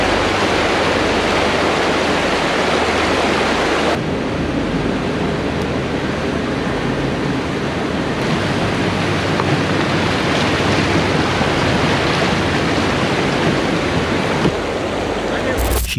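River rapids churning beneath a kayak: a loud, unbroken roar of rushing water and wind buffeting the microphone, filling the whole stretch without a pause.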